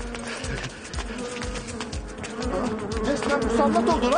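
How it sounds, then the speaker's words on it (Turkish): A bee buzzes close by outdoors in a neighbourhood street, a steady droning hum that grows louder toward the end, with faint voices in the background. "Nereden çıktı lan bu arı?"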